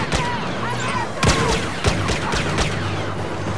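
Enemies open fire in Star Wars Battlefront during a hero battle on Hoth, a dense stream of blaster shots with sharp repeated cracks over a constant roar of battle noise.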